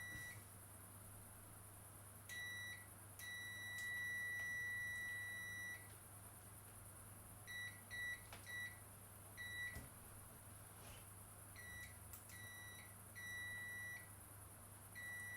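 Smoke detector chirping with a low or failing battery, indoors: faint, sharp high beeps repeating in irregular bursts over a steady low hum, with no talk.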